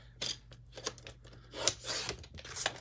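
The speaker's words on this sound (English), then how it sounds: "So let's cut a piece of this." Scissors snip through a scrap piece of white paper cut for a mini Easter basket, several short crisp cuts in quick succession, close and clear with no talking.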